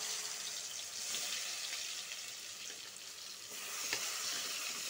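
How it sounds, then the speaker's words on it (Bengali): Ground pointed gourd paste hits hot oil in a pan, giving a steady, close, fairly quiet sizzle that holds evenly throughout, with no talk. "তেলটা গরম হয়ে গেছে, পটল চুচাটা পিষে রাখাটা এটা ঢেলে দিব"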